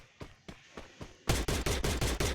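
MP5 gunfire in the Free Fire video game: rapid, evenly spaced shots, a quieter burst followed by a louder, denser string of close-range fire, with no talking.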